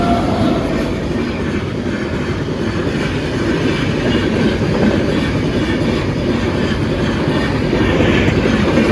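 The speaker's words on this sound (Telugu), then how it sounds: "ఇప్పుడు ఇంకొక ట్రైన్ వస్తుంది." A fast train rushes past on a railway track at roughly 100 km/h, a loud, continuous roar of wheels and carriages with a steady clatter and no voices.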